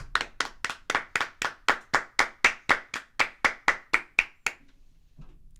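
Podcast hosts clap together in a steady, evenly spaced run of about sixteen sharp, close claps over four and a half seconds, then stop abruptly into near silence.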